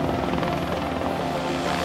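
Helicopter flying at close range during filming of a motorbike chase, its steady rotor chop and engine roar loud and continuous throughout the brief moment, with no talking.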